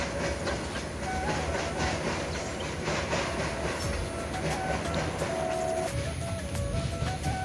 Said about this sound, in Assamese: এনেকুৱা ট্ৰেইনো মাজে সময়ে গৈ থাকে